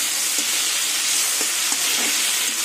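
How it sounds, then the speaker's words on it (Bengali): Shrimp frying in oil in a pan: a steady, close hiss of sizzling with a few faint scraping stirs, and no voices. "চিংড়ি মাছ ভাজা হয়ে গেছে"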